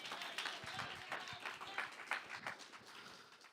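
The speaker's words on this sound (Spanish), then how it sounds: "¿Cuánto dan un fuerte aplauso al Señor?" A church congregation claps steadily and fairly softly, a blur of overlapping hands from a large group heard at a distance.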